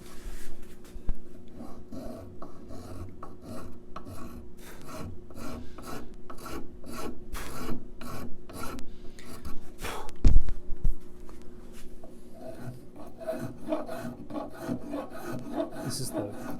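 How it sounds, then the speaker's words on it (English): Hand filing and sanding on a wooden guitar heel, rhythmic rasping strokes repeating close up, with a single sharp knock partway through. "wood being wood, you've got to figure out which direction is best to file and sand"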